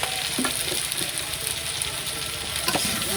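Chili, ginger, salt and turmeric sizzle steadily in a hot pan, with a few scraping stirs of a utensil breaking through the continuous frying hiss.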